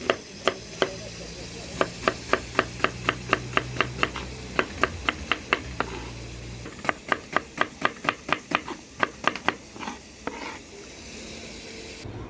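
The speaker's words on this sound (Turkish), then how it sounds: "Soğanlarımızı doğruyoruz." Rapid knife chops through onions on a cutting board, dozens of crisp evenly spaced taps in bursts with short pauses, close and clear.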